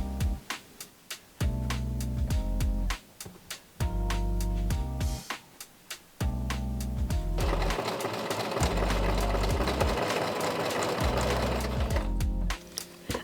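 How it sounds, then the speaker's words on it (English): Sewing machine stitching along fabric edges, running in loud steady bursts separated by short pauses, close and alone with no talk. "I pinned and sewed the edges."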